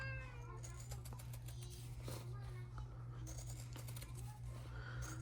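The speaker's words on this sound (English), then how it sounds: "This cat, y'all." A cat meows several times in short, insistent calls over a low steady hum, with occasional clicks and voices nearby.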